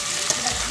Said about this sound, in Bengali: সবজিগুলো আমার হালকা ভাজা হয়ে গিয়েছে